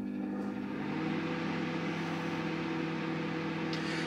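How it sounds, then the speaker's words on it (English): Constant low mechanical hum of a running microwave oven, steady and unbroken throughout, with no voices. "we put the microwave on"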